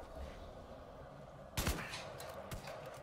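A gunshot in the Far Cry 6 Vaas DLC video game, one sharp loud crack with a short burst trailing after it, then a fainter second report about a second later over quiet game ambience.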